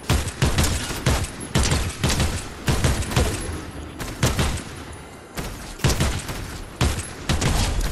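Rapid bursts of gunfire in Fortnite crack repeatedly at close range, dense volleys with brief pauses between them.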